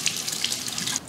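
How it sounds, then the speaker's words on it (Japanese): Tap water runs steadily into a sink while cabbage and other vegetables are washed for ramen, a close, continuous splashing hiss with small surges. "ちょっと洗ってね。"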